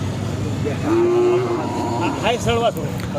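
A large Khillar cow at a cattle market during the Pandharpur Kartiki wari gives a short, clear moo, followed by a couple of quicker wavering calls amid background market noise.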